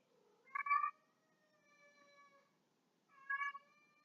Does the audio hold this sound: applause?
no